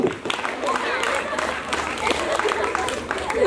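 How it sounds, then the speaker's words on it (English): An audience applauds after a beautiful song at a fun learning event, steady clapping spread through the room with voices talking over it throughout. "Give them big round of applause."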